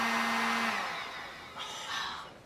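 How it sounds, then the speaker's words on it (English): A heat gun runs in a home garage with a steady loud whooshing hiss, briefly carrying a low hum before fading and surging again near the end. "if you leave the heater on and use the heat gun"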